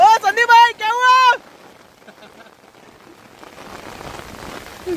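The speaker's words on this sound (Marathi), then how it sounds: "जबरदस्त जोराचा पाऊस आला." Heavy rain sets in outdoors as a broad, hissing wash that swells over the last seconds, preceded by a loud tonal call at the start and a brief quiet stretch.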